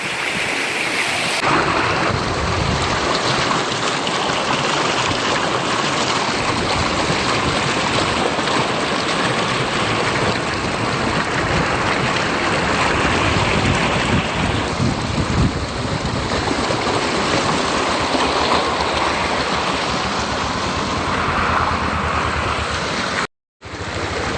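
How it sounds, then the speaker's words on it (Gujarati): Floodwater rushes around a car stranded during heavy rain in Junagadh, a loud, continuous roar of churning water and rain with no letup, cutting out for a moment near the end. "આવી રીતે પાણી ભર્યું બહુ પાણી આવ્યું"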